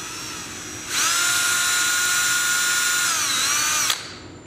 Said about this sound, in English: Got my trusty drill here with my 1/16th drill bit, and I'm just going to